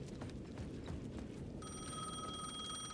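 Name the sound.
ringing payphone in the video game Alan Wake 2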